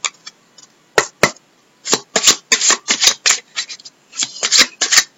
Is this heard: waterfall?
no